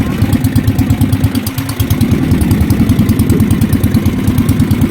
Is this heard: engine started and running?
yes